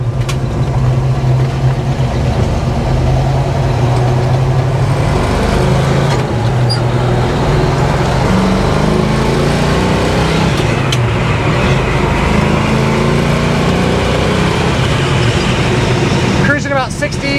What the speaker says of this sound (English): About 65 right now, cruises really well.